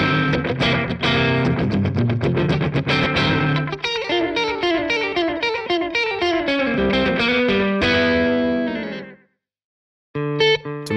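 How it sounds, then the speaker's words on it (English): An electric guitar played through an Xvive V5 analog delay pedal, tuned to sound like an old-school echo unit: loud picked notes and chords with repeating echo trails, ending in a short silence before a final phrase. "The V5 is an analog delay that aims to replicate the warmth of old-school echo units"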